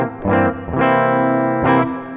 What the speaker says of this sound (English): That's the sound of this guitar.